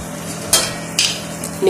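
Fish cutlets cooking in a pan, a soft continuous sizzle broken by three sharp scrapes or clinks of a utensil against the pan, close and without talk.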